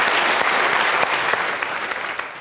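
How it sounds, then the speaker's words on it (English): Dense, sustained applause from a lecture audience in a hall, a steady wash of many hands clapping that fades slightly toward the end, with no talking over it. "A big round of applause if we can."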